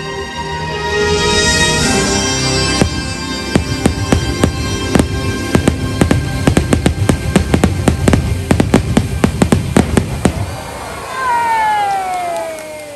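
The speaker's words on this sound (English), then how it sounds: "After that amazing fireworks, they're going to do Big Thunder." A fireworks show at Disneyland in Anaheim, California: a long run of sharp booms and crackling bursts, some rapid-fire, with a whistling rocket near the end and crowd noise beneath.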